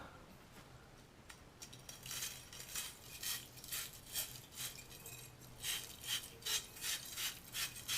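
Copper pipe ends are scrubbed clean ahead of a shower valve install, sounding as a close, raspy, rhythmic scraping, the repeated strokes building up after a quiet start with no talk.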